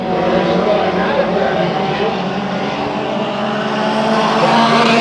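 Race cars run at Bakersfield Speedway during a heat race, a continuous loud engine roar that swells slightly toward the end, with no talk over it.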